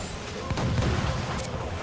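Cannon fire during a naval battle in the video game Assassin's Creed Freedom Cry, a rumbling barrage of deep booms in close succession under sea and ship noise, with shouted voices mixed in.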